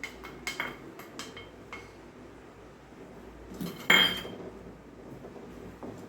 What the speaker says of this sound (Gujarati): ઘી ગરમ થઈ ગયું છે હવે આપણું તો એમાં ધીમે ધીમે આ લોટ ઘઉંનો ઉમેરતું જવાનું